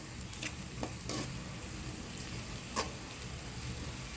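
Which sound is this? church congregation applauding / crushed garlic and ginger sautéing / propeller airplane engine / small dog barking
crushed garlic and ginger sautéing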